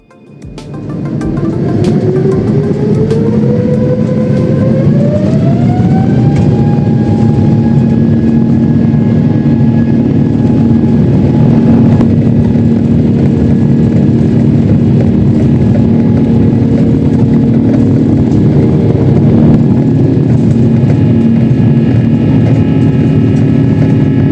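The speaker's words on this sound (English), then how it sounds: "let's begin our takeoff into the humid skies of Suvarnabhumi Airport" Thai Airways airliner taking off from Suvarnabhumi Airport, heard from the cabin: a loud, continuous engine roar that builds quickly and holds steady with a rising whine as the jet accelerates.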